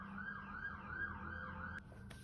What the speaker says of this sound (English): sorry guys, there's a siren going on.